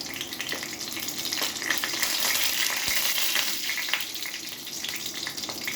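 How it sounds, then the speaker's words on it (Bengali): Bay leaf, broken dried red chillies and panch phoron sizzle steadily in hot oil, a loud, continuous crackling hiss with a few faint clicks, and no voices. "তেল গরম হয়ে গেছে, আমি তেজপাতাটা দিলাম, শুকনো লঙ্কা আমি টুকরো করে দিলাম, 1/2 চামচ পাঁচফোড়ন দিলাম"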